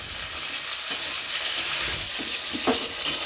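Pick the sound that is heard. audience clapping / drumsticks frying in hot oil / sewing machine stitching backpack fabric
drumsticks frying in hot oil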